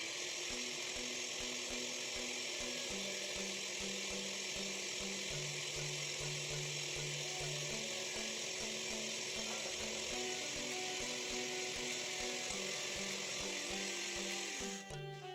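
An electric mixer whirs continuously through butterscotch pudding mixture, a loud steady motor drone with shifting pitch and rattling beaters, running without talk until it cuts off at the end.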